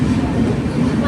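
Inside a moving passenger train in the Konkan region, a loud steady rumble of the coach rolling along the track, continuous and close, with people talking over it.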